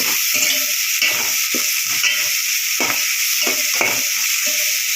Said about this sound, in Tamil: எடுத்து வச்சுருக்க கருவேப்பிலையும் சேர்த்துக்கிறேன். நல்லா வதக்கிப்போம்.